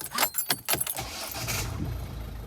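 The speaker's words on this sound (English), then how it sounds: "then I'm going to start the engine, let it run for a second or two" Keys jangle before a Volvo C30 D2 1.6 diesel (D4162T) cranks with a few rapid pulses, catches and settles into a steady low idle rumble after an oil change.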